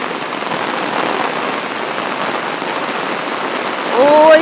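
Heavy rain pours steadily in Goa, India, a dense, loud hiss of drops hitting surfaces that holds constant and swells slightly near the end, with a faint tonal sound rising briefly.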